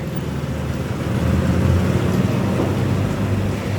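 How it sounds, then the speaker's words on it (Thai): Steady low engine drone and road rumble from inside a Chiang Mai–Lampang passenger van, a continuous close hum that swells slightly midway, with no talk. "อันนี้รถตู้เชียงใหม่ละปูนนะคะ"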